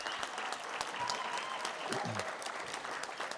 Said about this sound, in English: let's first give a big round of applause to that young man, Giancarlo Buscaglia, who's been performing for us this evening